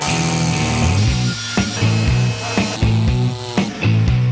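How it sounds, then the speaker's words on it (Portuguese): A chainsaw cutting wood during deforestation in the Amazon, a loud, steady engine drone with rhythmic surges as the chain bites, close and continuous, with no talk. "com uma personagem bem conhecida, a motosserra"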